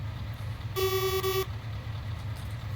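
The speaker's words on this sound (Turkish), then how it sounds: "Kornası da böyle." A Scania T500 truck in Euro Truck Simulator 2 sounds its horn: one steady, tonal honk of under a second, loud over a low, constant engine rumble.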